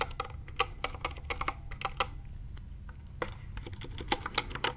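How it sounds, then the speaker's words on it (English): Close-up computer keyboard typing, irregular clicky keystrokes in quick bursts with short pauses, each key press crisp with a slight springy rattle. "this keyboard makes interesting noises as well. I think the keys sound a little bit springy."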